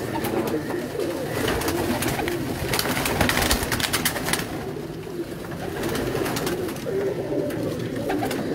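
A flock of kept breeding pigeons coo repeatedly in their loft, soft throaty calls overlapping at close range over a steady background rustle, with no talking.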